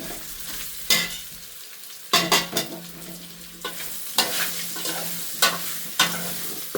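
Chilli being stirred into a frying mixture in a pan for palak methi muthiya: several sharp scraping stirs at irregular intervals over a steady low sizzle, close and fairly loud, with no talk.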